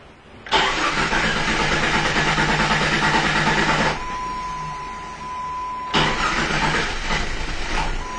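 A 2004 Jeep Cherokee with a cam/crank sensor code cranks with a loud, steady churning whir for a few seconds. A quieter hum follows, then the starter cranks again and the engine catches, close and loud.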